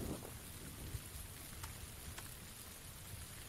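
Steady rain pours in a battle royale video game, a constant broad hiss of drops with low rumbling beneath and a few faint sharper ticks, no voices over it.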